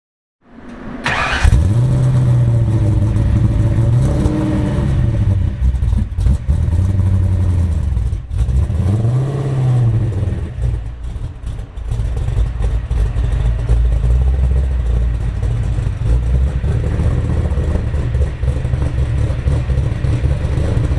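A Fox-body Ford Mustang with Southwest Speed headers and Cherry Bomb Salute mufflers starts up, gives several deep rhythmic revs, then settles into a loud, rumbling idle, close by with no talking.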